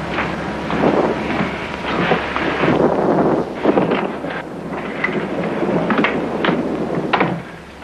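Thunderstorm sound effect from a 1956 noir drama film, with steady loud rain and gusting wind, rolling thunder rumbles and sharper cracks recurring throughout, continuous and close with no voices.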